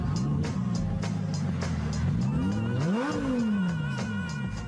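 A Lamborghini Gallardo engine drones loudly and steadily, its pitch sweeping up and falling back as the car revs and passes close by, with broad continuous road noise throughout.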